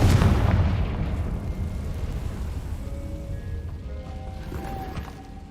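A Confringo spell blast in Hogwarts Legacy booms loudly at the start, then rolls off into a long fading rumble with faint tonal game effects ringing underneath.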